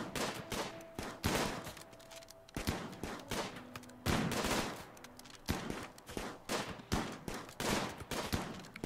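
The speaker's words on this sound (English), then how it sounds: "It's a huge firefight right now." Dense gunfire from a large firefight in the video game RimWorld, with rapid bursts and single shots overlapping almost continuously, loud and close, with no voices.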